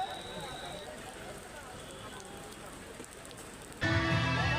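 Heavy rain pours down on a street during the Durga Puja festival, a steady hiss of drops that suddenly grows louder and closer near the end.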